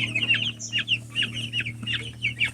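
Young chickens clucking and peeping in quick repeated calls over a steady low hum, close and lively throughout.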